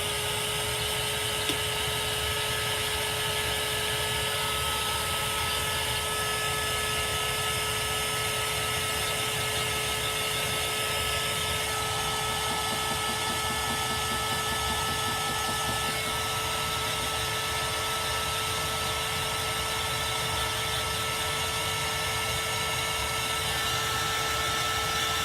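A hair dryer blows steadily on chalk artwork, its continuous whirring hum running unbroken and close for the whole stretch.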